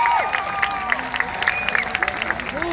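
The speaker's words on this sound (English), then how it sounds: "Clap if you saw that video." A comedy show audience claps and cheers, a brief burst of scattered applause from a crowd with some voices mixed in.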